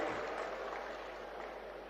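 A crowd at a Punjab clinic-launch event applauds for a little girl's birthday, a faint, steady wash of many hands clapping at a distance, continuous and even throughout.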